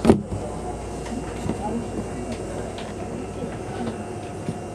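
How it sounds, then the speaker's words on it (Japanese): The last down local train on the Yosan Line rumbles at Tsushimanomiya station, a steady mechanical roar with faint clattering and occasional knocks, heard close and continuous. "これ最終列車で。"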